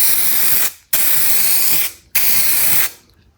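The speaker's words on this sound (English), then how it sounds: "now that I know that the Scratches Happen aerosol can works absolutely great" Aerosol spray paint from a Scratches Happen can hisses onto a test card in three close, loud, steady bursts, each stopping abruptly before the next.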